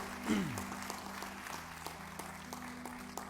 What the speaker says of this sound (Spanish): démosle un gran aplauso al Señor